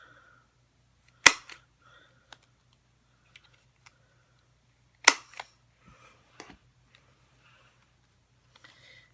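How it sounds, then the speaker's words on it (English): A corner rounder punch rounds the corners of a Halloween card, giving two sharp loud clicks a few seconds apart, with a few faint taps and paper rustles between them, close and without speech. "I'm going to take my corner rounder and go ahead and round all 3 corners."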